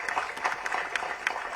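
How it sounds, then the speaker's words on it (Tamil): Applause at a film audio launch event, a soft, fairly distant patter of clapping from the audience with scattered individual claps standing out. "கண்டிப்பாக அதற்கு ஒரு பெரிய கைத்தட்டல் ஜெய் பேபிக்கு."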